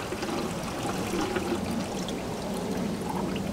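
Coolant pours steadily out of a Chiltrix heat pump chiller unit being drained, a continuous close splashing trickle and stream of liquid lasting a few seconds with no talk.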